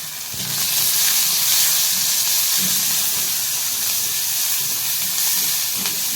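Onion and garlic frying in a pan for a masala bhindi (okra) recipe, a steady broadband hiss and sizzle running throughout at even loudness, with no talk.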